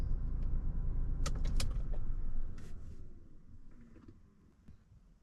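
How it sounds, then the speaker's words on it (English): A pickup truck being shut off: steady engine rumble under a few clicks and mechanism noises, then the running sound fades away into near quiet as the truck powers down. "when I turn the truck off"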